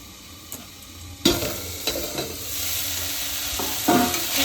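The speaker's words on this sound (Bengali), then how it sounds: "গ্যাসটাকে একটু আস্তে দিয়ে ঢাকা ঢাকা দিয়ে ফুলকপিটাকে একটু ভালো করে ভেজে নেব" Cauliflower fries in a covered pan over low gas, a soft sizzle that jumps louder after the first second, with a few clicks and stirring knocks through the rest.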